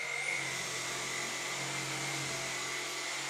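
Tineco Pure One S50 Pro cordless vacuum running on carpet: a steady, close, high-pitched motor whine with a constant airy suction roar and no break throughout.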